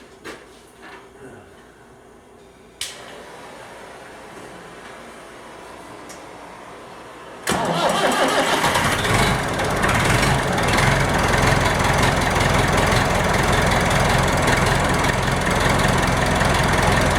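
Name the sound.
engine cranking and idling after fitting replacement starter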